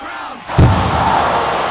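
A large arena crowd roars and cheers at a hockey game for the visiting Sarovia Crowns, a loud, sustained wash of noise with a heavy thump near the start.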